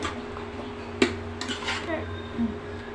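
A metal lid is set onto a cooking pot of greens and dried fish being cooked, giving one sharp clank followed by a few lighter clinks of metal against metal.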